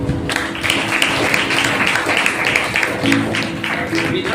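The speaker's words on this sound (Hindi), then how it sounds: "तालियां बजाएं।" Clapping from a congregation at a Hindi-language Sunday church service, loud and steady across the whole moment, with some voices and a low tonal hum running beneath it.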